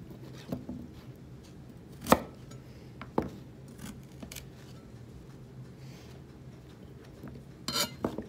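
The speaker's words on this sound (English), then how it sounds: "You don't want to chop your vegetables too small" A knife chops vegetables for a beef stew on a cutting board, leaving a handful of sharp, scattered knocks with quiet pauses between them and no talking.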